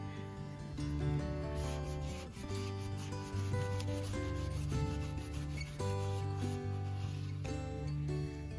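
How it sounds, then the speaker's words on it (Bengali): An apple being rubbed to polish its dull skin makes a soft, steady friction sound in repeated strokes, close and fairly quiet, with no talking. "সো আমি একটু ঘষে দেখাই আপনাদেরকে।"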